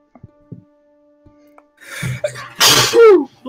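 A single loud, close sneeze with a sharp intake before it, following a few faint clicks and quiet room sounds during a tabletop Pathfinder game session.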